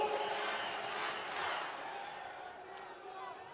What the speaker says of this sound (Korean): 함성 소리, 대한민국을 외치는 소리가 듣기 좋고 힘이 납니다